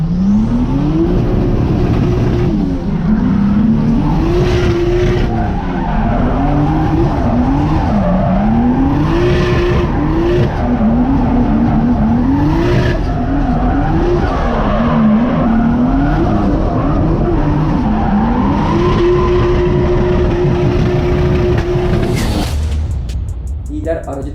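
A drifting car held sideways with left-foot braking, its engine revving in repeated rising and falling sweeps while tires squeal continuously and loudly, the sound cutting off near the end.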